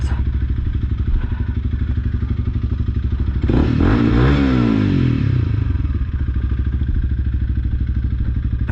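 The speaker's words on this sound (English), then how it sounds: "the revving of my bike scared it off" A motorcycle engine runs loudly close by, idling with a steady chug, then revs up and back down in a rising and falling roar before settling again.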